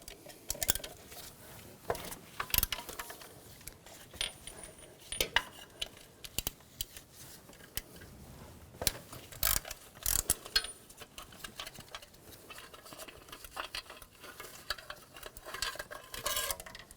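A ratchet with an 18mm socket works bolts loose during turbocharger and exhaust manifold removal on a 2004-2009 Audi A4 Quattro 2.0L, giving irregular sharp clicks and metallic clinks up close.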